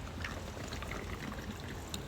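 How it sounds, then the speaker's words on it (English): Liquid is poured from a bottle into an outdoor compost bin, a soft, faint, continuous splashing trickle lasting about two seconds. "Pour that all in there wet."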